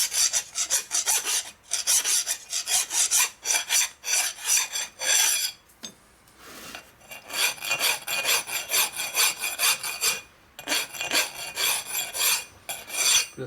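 A hand file rasps against metal during a Harley shovelhead engine case repair, in repeated back-and-forth strokes with short pauses between bursts, close and alone.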